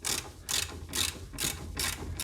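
A ratchet wrench tightens the 19mm nut on a stabilizer end link of an Opel Corsa C, giving five quick, close clicking bursts in a steady rhythm.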